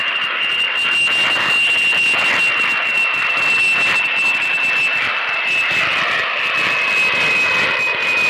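A jet aeroplane engine roars loudly and steadily for the whole stretch, a sustained whine over broad rumbling noise with no voices present.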